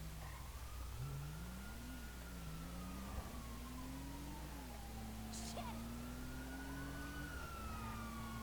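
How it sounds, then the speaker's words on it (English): A Lincoln Town Car in Grand Theft Auto V pulls away with a steady engine tone that rises and shifts as it accelerates, a faint siren-like wail running alongside through the whole stretch. "And we'll tear off down in our Lincoln Town Car."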